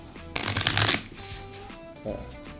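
A deck of poker cards is riffle-shuffled in a dealing demonstration, a close, crisp burst of rapid flutter lasting under a second, then a few soft card taps.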